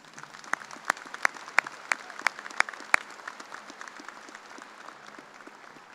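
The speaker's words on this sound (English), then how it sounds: "Please join me again in a round of applause for these individuals." Crowd at a Kansas State University graduate commencement claps for honored individuals, a broad patter of applause with several loud, regular claps near the front that fade as the ovation tapers off.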